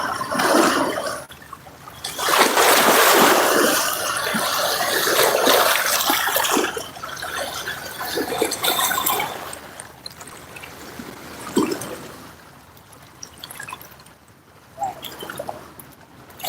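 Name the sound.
ocean waves hitting the shore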